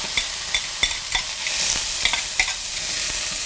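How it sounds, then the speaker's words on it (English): Onions and mushrooms sizzling in oil in a pan, a steady hiss punctuated by sharp clicks and scrapes of a utensil stirring, close and without talk. "Give that a little stir around"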